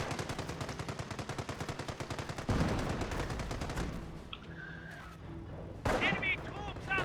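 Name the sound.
gunfire in Company of Heroes video game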